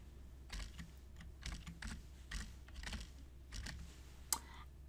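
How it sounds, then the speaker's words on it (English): Keystrokes on a computer keyboard enter a user ID for SQL Server authentication, arriving in several short quiet bursts of clicking with a sharper final tap, close and alone. "I can type in my user ID"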